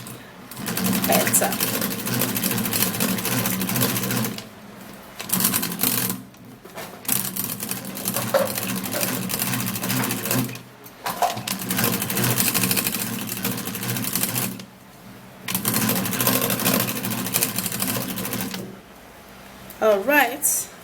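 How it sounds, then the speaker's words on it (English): A hand-cranked manual mixer whirs in steady bursts while beating a mix of Vaseline and egg, running in several long rhythmic runs separated by short pauses, close and fairly loud, with someone talking briefly. "using my manual mixer is going to mix this really"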